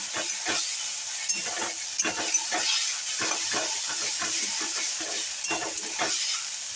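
Green chili paste hitting okra frying in a pan gives a continuous hiss with repeated bursts of sizzle and crackle as it is stirred, close and fairly loud, with no talking.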